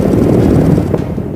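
Military helicopter gunfire at an Indian Air Force firepower demonstration in Rajasthan, with Apache and Mi-17 helicopters firing at ground targets: a dense, continuous roar of rapid shots and rotor noise, loud and steady throughout.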